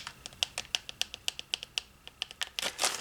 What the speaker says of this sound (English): These are the ones that make the nice clicking sound.